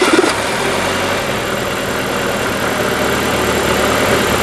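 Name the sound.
car engine idling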